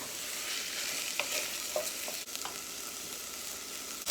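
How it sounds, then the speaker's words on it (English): Steady, bright sizzling of rice grains toasting in a hot pan, with a few light scraping stirs, close and continuous with no talking. "We have that nice sizzle."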